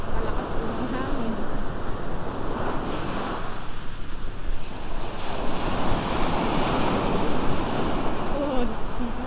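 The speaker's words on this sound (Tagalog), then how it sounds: "Malakas po ng hangin." Strong wind roars across the seashore with surf washing in steadily underneath, a constant loud buffeting on the microphone for the whole stretch, with faint voices briefly in the background.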